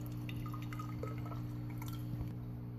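About 20 mL of water is poured into a differently shaped container, giving small scattered drips and light splashes over a constant low electrical hum.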